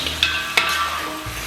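Blanched chicken pieces being stir-fried in a pot for home-style braised chicken, with a few sharp spatula clicks and scrapes over a soft, continuous sizzle, close and moderately loud, no talking.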